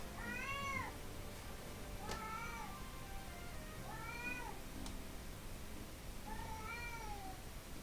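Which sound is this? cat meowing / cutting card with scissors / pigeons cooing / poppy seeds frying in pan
cat meowing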